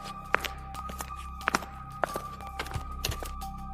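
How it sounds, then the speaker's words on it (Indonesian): Footsteps echo through a dark corridor of an old, empty hospital at night, an uneven series of moderately quiet steps and thumps over a steady low hum. "Tiba-tiba, Siti mendengar suara langkah kaki di belakangnya."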